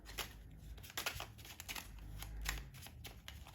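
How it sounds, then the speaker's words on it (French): A deck of playing cards being shuffled for a magic trick, with soft riffling flutters and light snaps repeating irregularly, close and quiet, without talk. "on va venir mélanger le paquet histoire de perdre la carte sur laquelle tu es tombé"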